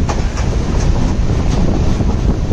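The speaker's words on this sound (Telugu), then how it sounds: "అసలు అద్భుతమైన ట్రైన్ జర్నీ ఇది." A passenger train runs along the seaside line from Galle to Colombo in Sri Lanka, heard from on board as a loud, steady rumble with faint repeated wheel clacks over the rails and no voices.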